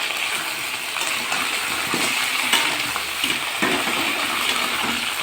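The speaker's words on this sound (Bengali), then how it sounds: "আদা জিরে আর পাকা পাকা কাঁচা লঙ্কা বেটে নিয়েছিলাম সেটা ঢেলে দেব দিয়ে এটা দিয়ে কষিয়ে নেবো ভালো করে" Ground ginger, cumin and ripe green chili paste being sautéed with fried yam in a pan for a fish curry, a constant sizzle with repeated scraping stir strokes throughout.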